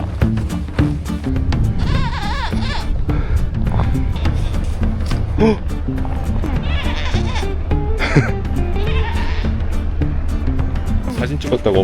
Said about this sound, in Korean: 길목마다 염소들이 길막하고 있어요.